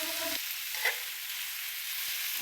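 Vegetables and onion frying in oil, a soft, even hiss of sizzling close by, with a brief low knock at the start and a faint scrape partway through, otherwise steady and quiet.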